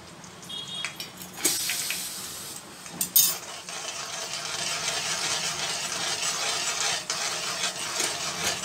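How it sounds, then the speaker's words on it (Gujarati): Asafoetida and onion added to 3–4 spoons of hot oil for sev usal, giving a steady close sizzle with a few sharp clinks of a spoon against the pan early on. "તેલ ગરમ થાય એટલે એમાં થોડી હિંગ નાખીશું. થઈ જાય એટલે એમાં થોડી ડુંગળી નાખીશું."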